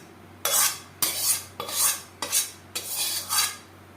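Onion, garlic, tomato and green chili being worked by hand or utensil into deboned fish for a mashed fish bharta, heard as five distinct scraping, squelching mixing strokes in a steady rhythm, close and moderately loud with no talking.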